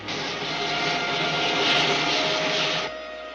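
An aircraft engine drones loud and steady as a plane comes in to land in a 1952 science-fiction serial, a broad roar holding with a faint whine, then dropping slightly in the last half second; no speech.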